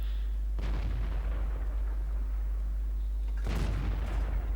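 Two heavy tank cannon shots in World of Tanks, each a sharp loud boom with a rolling tail, the second arriving about three seconds after the first, over a constant low engine drone.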